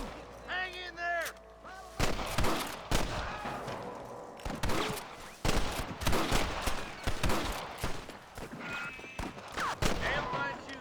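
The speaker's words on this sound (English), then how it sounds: "Damn fine shooting, boys." Rapid, loud bursts of gunfire from the Western video game Red Dead Redemption, with repeated sharp shots crackling over a music bed and occasional voices talking in between.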